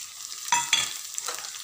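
Green chillies and onions frying for Rayalaseema-style upma crackle and sizzle in a pan, with a few short bursts as the pieces are stirred, fairly quiet and with no voices.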